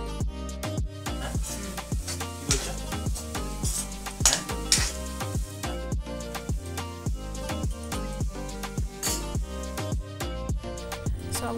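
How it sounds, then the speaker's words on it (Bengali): Coconut gaja snacks frying in hot oil, a steady sizzle broken by regular clinks and scrapes of a utensil stirring in the pan, close and moderately loud with no talk. "বাকিগুলোও ঠিক একইভাবে ভেজে নেব।"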